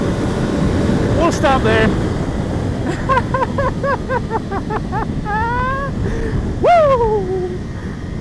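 A 2020 Triumph Daytona Moto2 765 sport motorcycle engine revs hard through a rapid series of rising gear shifts, loud and close, with wind noise and a brief shout near the end.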